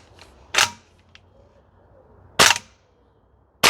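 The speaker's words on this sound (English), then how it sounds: "We're just going to test to see how many rounds we can get out of each mag if we're just dry firing it." A Toxicant Airsoft XM5 Sig Spear gas blowback rifle dry fires on a range, giving sharp, loud, isolated bolt snaps spaced about two seconds apart over a quiet background.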